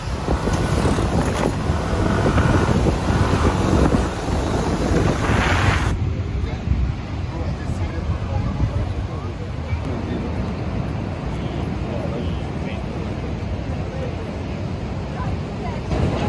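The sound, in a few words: wind and waves at a Bali beach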